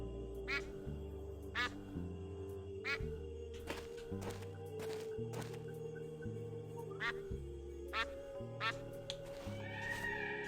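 A strange duck in the adventure game Escape From Monkey Island gives repeated odd quacking calls at irregular intervals over a steady game music bed with soft thumps.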